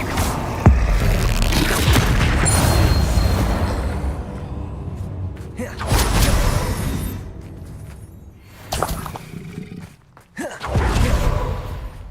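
Repeated Confringo fire-blast spell explosions in a magic-themed game thump heavily, several loud booms in a row with dull rumbling tails and brief quiet gaps between them.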